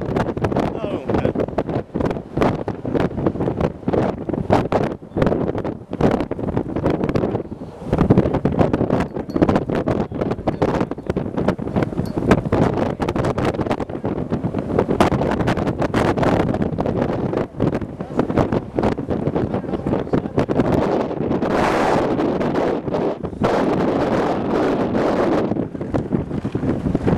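Strong gusting wind roars loudly across an open Kansas landscape during a tornado, buffeting the microphone continuously with broadband rumble and occasional surges, while people talk intermittently beneath it.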